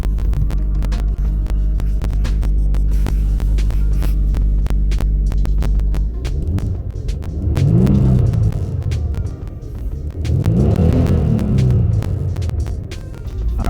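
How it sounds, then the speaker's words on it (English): A Kia Stinger runs after starting, with a loud steady low hum and throb at first, then two swelling revs that rise and fall near the microphone. "Starting the car to make sure everything's running right."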